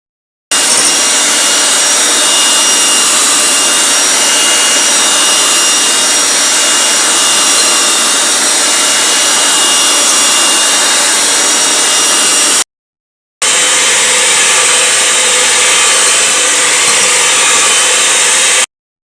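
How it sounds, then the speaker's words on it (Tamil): An electric hand beater whips vanilla cake batter toward stiff peaks, a loud, steady whirring roar that stops briefly near the end and then starts again. "இந்த எலக்ட்ரிக் பீட்டர் வச்சு நல்லா பீட் பண்ணி எடுத்து வச்சாச்சு."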